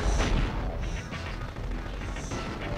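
Gunfire from the video game Future Cop, a steady barrage of loud blasts and booms with crashing impacts running continuously throughout.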